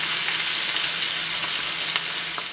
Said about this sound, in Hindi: उस गरम गरम बघार को उसके ऊपर डालेंगे